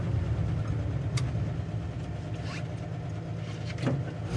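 A 1953 Chevy Bel Air engine idles steadily close by, its low, even rumble carrying the faint ticking of a slight exhaust leak throughout.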